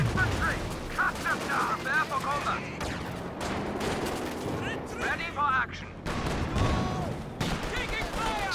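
Machine gun fire in the Company of Heroes 2 video game: rattling bursts and distant booms from a busy battlefield, with a voice talking over much of it.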